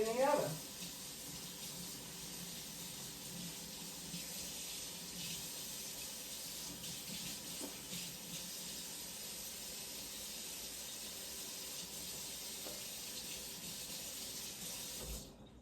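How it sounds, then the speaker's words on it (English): Tap water runs steadily into a kitchen sink while gloves are rinsed during Southern-style cornbread dressing prep, a constant close hiss broken by a brief louder splash at the start. "let me rinse these gloves and take them off."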